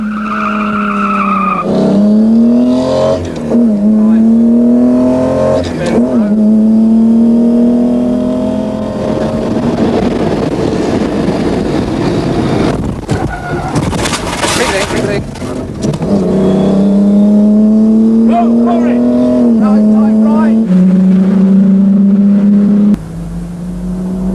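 Austin-Healey 'big Healey' race cars roar loudly as they race, engines revving up and down through gear changes with a burst of tire noise midway, while a commentator talks over them.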